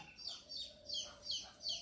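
A chicken clucks repeatedly in short, evenly spaced bursts, fairly close, with no talking.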